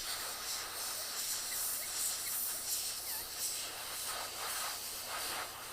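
An airbrush sprays paint with a steady, faint, continuous hiss heard up close, with no one speaking.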